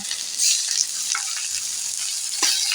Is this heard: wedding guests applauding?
no